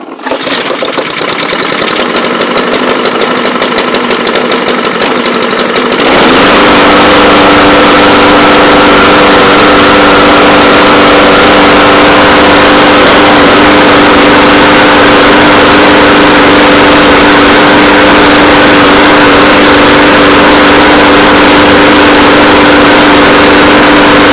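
A Honda engine on a Troy-Bilt mower on full choke cranks with a rapid pulsing, catches after about six seconds, then settles into a loud, steady run that continues for the rest of the clip.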